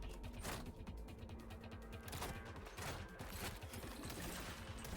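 Assault rifle fire in Cyberpunk 2077, a hybrid power-smart weapon, with bursts of rapid mechanical shots repeating across several seconds, fairly quiet and steady with no talking over it.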